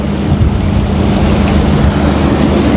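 Water rushing strongly through a channel during rainy weather, a steady loud broadband roar with low rumble and no break, with no voices.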